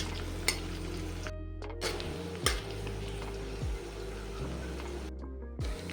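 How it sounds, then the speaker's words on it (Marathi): Green chillies and vegetables stirred in a hot pan for a village-style vegetable dish, a steady sizzle of frying with a few scraping strokes of a spoon against the pan, close up and with no talking. "हे छान असं हलवून घ्यायचं आता आपल्याला."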